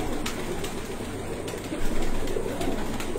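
Breeding pigeons cooing softly in their coop, low continuous murmuring with faint ambient noise and no voices.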